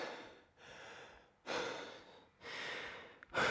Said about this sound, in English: Definitely takes me a second to get my breath back